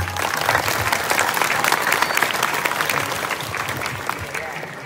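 Audience applause at a Calonarang temple performance at Pura Agung Gunung Mas Merenteng in Bali, a dense wash of many hands clapping steadily for several seconds at fairly even loudness, with murmuring voices mixed in.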